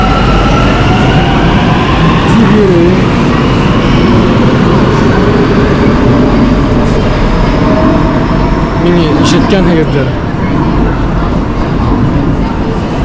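Marmaray metro train running, a loud continuous rumble and rail roar from inside a carriage with occasional squeals, while people talk over it.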